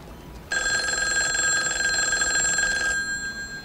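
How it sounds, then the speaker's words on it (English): A telephone bell rings in a scene from the 1971 film Dirty Harry, a steady continuous ring starting abruptly and holding loud and near for over two seconds before cutting off. "There's a phone ringing. You should answer it."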